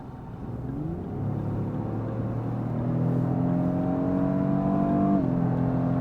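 A 2024 Lexus GX 550 Premium+ with a twin-turbo 3.4-liter V6 accelerates from inside the cabin, its engine note rising steadily through the gears as a smooth, climbing drone with a brief shift dip.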